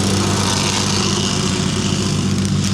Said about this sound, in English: So we've got old man Dale on the whacker.